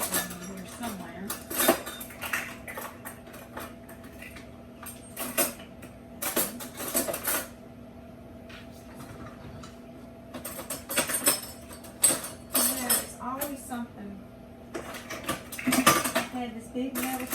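Metal cutlery and utensils clatter and jangle in a kitchen drawer during a search for a big metal spoon, with bursts of rattling separated by quieter pauses and handling noises throughout.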